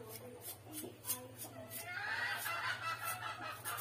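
Chickens cluck and murmur faintly in a home kitchen during sardine bread preparation, soft scattered calls beneath ongoing cooking sounds.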